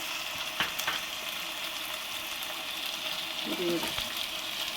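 Capsicum for vegetable noodles frying in a hot pan, a steady broadband sizzle running throughout with a few brief stirring clatters, moderately close and unaccompanied by talk.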